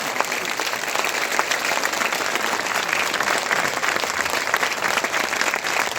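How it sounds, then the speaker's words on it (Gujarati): Crowd at a Thakor community political rally clapping vigorously with hands raised, a loud, dense, unbroken wave of applause lasting several seconds with faint voices beneath it. "બે હાથ ઊંચા રાખીને પાડો."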